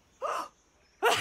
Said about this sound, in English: Does she still have hiccups?